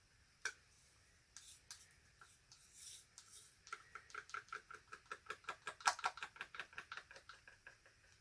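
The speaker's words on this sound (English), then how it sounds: "sorry about the scraping noise." Leftover pour paint being scraped out of a cup during a pearl acrylic pour, heard as a quiet series of short, rhythmic scratchy strokes that come faster and more regularly toward the end, with no talking.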